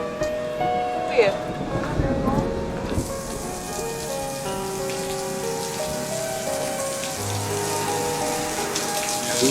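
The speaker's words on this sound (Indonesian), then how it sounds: "Gerimis nih." Light drizzle patters steadily on surfaces outdoors, a soft continuous rain heard nearby with scattered drops, while people talk faintly in the background.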